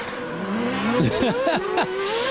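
Formula 3000 race cars at San Marino in 2003, engines rising and falling in pitch as two cars tangle on track, with brief tire scrubbing through the middle and a loud, close, busy roar throughout.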